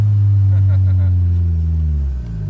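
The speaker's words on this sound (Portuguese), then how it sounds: "nós estamos acelerados aqui na pista" A turbocharged Volkswagen Voyage with cut springs accelerates hard on a track, its loud, close engine holding a steady droning roar that sags slightly near the end.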